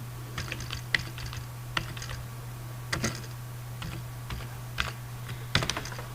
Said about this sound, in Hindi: फिर यहाँ पे आके तो इधर आके तो फिर आप अपनी फाइल का नेम टाइप कर लेंगे